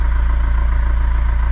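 A boat engine runs steadily with a low, throbbing idle and a fast, even pulse, loud and close with no voices over it.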